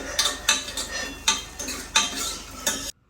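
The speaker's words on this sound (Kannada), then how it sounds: "ಈಗ ನಾನು ಗೋಡಂಬಿ ಫ್ರೈ ಮಾಡ್ತಾ ಇದ್ದೀನಿ." Cashews frying in a pan, stirred with a metal spoon that clinks and scrapes against the pan in a regular rhythm over a soft sizzle, close by, ending abruptly.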